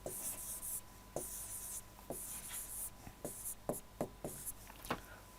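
Chalk or marker strokes on a board during a science lesson, a series of short scratchy strokes with brief pauses and taps between them, close and clear with no talking.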